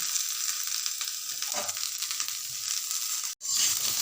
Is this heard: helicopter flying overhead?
no